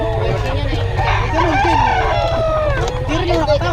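A Sweater-breed gamecock rooster crows loudly at close range in one long drawn-out call, with farmyard clucking and background noise underneath.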